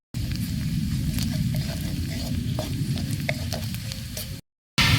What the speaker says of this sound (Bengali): মশলা দিয়ে কয়েক সেকেন্ড ভেজেই ডালটা দিয়ে দেব